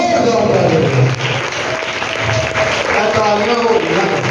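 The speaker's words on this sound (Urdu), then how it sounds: "زوردار تالیاں دیں" A church congregation claps loudly during an Urdu-language sermon, sustained applause with a voice speaking over it through most of the stretch.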